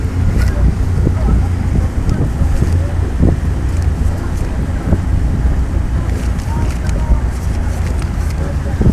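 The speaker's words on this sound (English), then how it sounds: "the wind has picked up substantially. A huge gust just now" Strong wind buffets the microphone over open water during a heavyweight men's college rowing race, a steady rushing roar with gusts. A commentator talks over it throughout.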